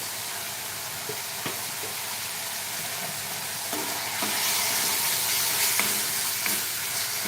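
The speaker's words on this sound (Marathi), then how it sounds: "आता हे सर्व मसाले तेल सुटेपर्यंत आपल्याला चांगलं असं परतून घ्यायचे आहे" Spices frying and being stirred in oil for a black chana curry, a steady close sizzle that swells louder midway, with occasional scrapes and clicks of a spoon against the pan.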